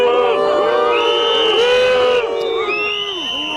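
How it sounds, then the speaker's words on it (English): A large crowd of factory workers, whose jobs are under threat, boos and jeers at Macron with loud sustained shouts and wavering voices that overlap throughout, dropping slightly toward the end. "Factory workers whose jobs are under threat booed Mr. Macron."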